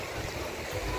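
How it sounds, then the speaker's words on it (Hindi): Fresh water in a cold mountain valley keeps up a steady rushing, burbling flow that sounds close by and fills the brief moment. "वो उधर पानी ताज़ा आ रहा है भाई,"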